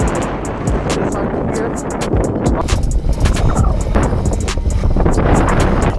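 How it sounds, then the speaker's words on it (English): Strong wind roars and buffets across the microphone on open water as a fishing kayak is pedaled into it, a loud steady rush with gusty bursts and a voice talking underneath. "Ooh, it is windy. It is windy."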